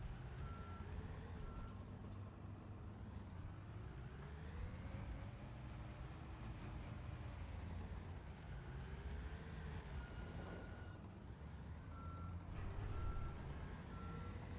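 Reversing beeps of a dump truck or bulldozer in Construction Simulator, evenly spaced repeated tones in short runs over a low rumbling engine and machinery drone, faint and continuous throughout.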